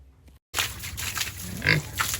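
Pigs at feeding time in Jamaica, a close, loud run of snorting grunts and squeals with dense overlapping oinks after a brief silent gap.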